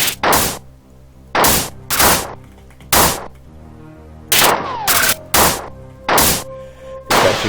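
Magnum pistol gunfire in the video game Marathon, heard as about ten loud, sharp shots at a steady, moderate pace with ringing tails. Faint tonal game sounds sit between the later shots.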